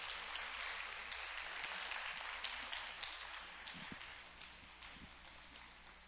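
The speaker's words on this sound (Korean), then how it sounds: "우리 따뜻하게 박수해 주시면 감사하겠습니다" Warm applause from a church congregation welcoming a missionary preacher at a Sunday youth service, steady dense clapping sustained throughout at moderate volume, with no voices over it.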